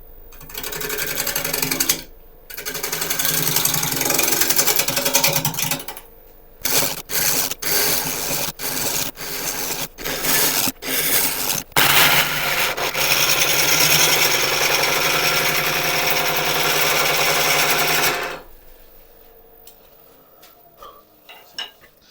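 A bowl gouge cuts a mallee burl bowl spinning on a wood lathe, a loud harsh scraping roar in long bursts broken by pauses and a stretch of quick choppy interruptions, then fading to quieter lathe hum.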